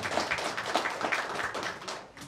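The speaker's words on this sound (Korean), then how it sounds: "다 같이 축하의 박수 크게 한번 주세요" An audience at a literary award ceremony claps softly and a little unevenly, a brief patter of applause that trails off.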